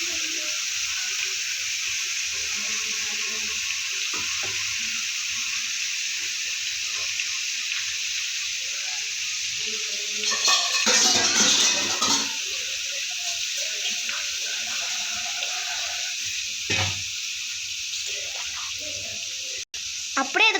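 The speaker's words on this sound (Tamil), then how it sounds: "அப்படியே அது கொஞ்ச நேரம் ஃப்ரை ஆகணும்." Ground henna paste fries in hot oil to make hair oil, with a long steady hiss broken by a louder burst of crackling midway and a brief clatter near the end, close-up and without speech.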